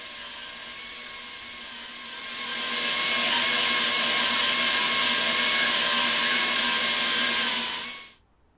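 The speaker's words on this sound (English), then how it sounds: "I'm using the friction grip attachment on my slow speed, but you could also use electric handpiece." A slow-speed dental handpiece with a friction grip attachment, turned down to about 5,000 RPM, drills a natural tooth for a Class II amalgam preparation: a steady whine that swells after two seconds, holds loud, then stops abruptly.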